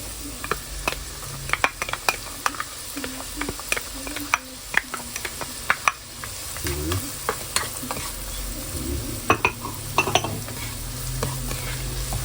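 Garlic, onion and ginger sauté in a pan with a steady sizzle, while a spoon scrapes and taps the pan in irregular clicks close by. A voice speaks intermittently over the cooking.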